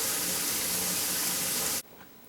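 Water gushes steadily from a faucet into a kitchen sink during a garbage disposal water test, a loud broadband rush that cuts off abruptly near the end, leaving quiet room tone.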